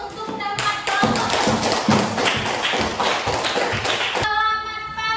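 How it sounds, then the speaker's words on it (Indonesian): Classroom group applause for a student group, a dense burst of many hands clapping together that swells in, holds steady for about three seconds, then stops abruptly. "mari beri aplaus untuk tempat kelompok"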